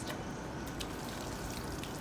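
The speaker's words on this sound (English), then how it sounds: "You can empty some of the water out first." Water pours and splashes steadily from a garden watering can being emptied outdoors, a continuous close trickle and patter with no pauses.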